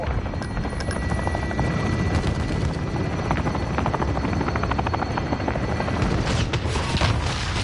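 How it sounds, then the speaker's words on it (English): A VTOL aircraft in a video game flies overhead, its rotor thrum loud and constant, with faint rapid gunfire and muffled booms scattered through the steady whir. "Friendly VTOL on station for Overwatch."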